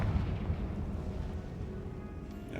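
Confringo fire spell detonating in a Harry Potter video game, a deep rumbling blast that rolls on and slowly fades, heard alone without speech.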